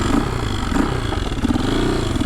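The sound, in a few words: KTM 450 EXC supermoto motorcycle engine revving while riding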